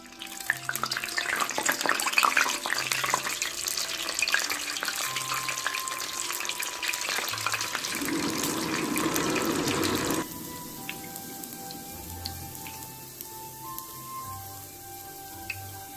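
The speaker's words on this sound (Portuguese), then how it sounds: "Então agora eu vou fritar." Kibbeh savory snacks fry in hot oil, a dense crackling sizzle loud at first that shifts and settles into a quieter bubbling hiss, with faint kitchen clinks and no speech.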